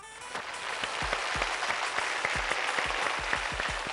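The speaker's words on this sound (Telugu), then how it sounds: "రండమ్మా, క్లాప్స్." A studio audience applauds between rounds of a competition show, a steady, dense wash of clapping that carries on for the whole stretch, with regular low thumps pulsing underneath.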